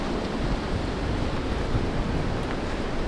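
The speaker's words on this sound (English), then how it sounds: "I was waiting for the wind to stop for a second, but it's not going to." Strong wind blowing outdoors on a cold day at a Connecticut garden, a loud, continuous roaring buffet across the microphone, steady throughout with no talk.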